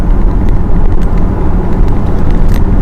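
Loud, steady roar inside a Volkswagen ID3 electric car accelerating from 50 to 70 mph on a motorway, with broad tyre roar filling the cabin and no talking.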